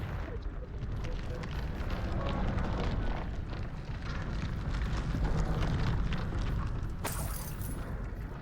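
A Confringo blasting spell explodes in Hogwarts Legacy amid game combat, a loud, rumbling wall of booms and debris noise that churns for several seconds, with a sharp crack near the end.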